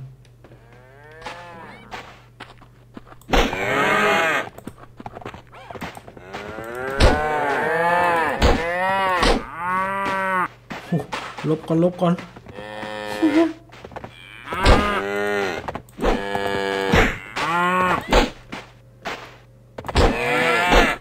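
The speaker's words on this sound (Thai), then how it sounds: "ผมจะขอล่าวัวก่อนได้ไหม" Cows moo repeatedly in Survivalcraft, a survival video game, with a series of drawn-out, loud calls over a low steady background hum. A voice speaks briefly between the calls.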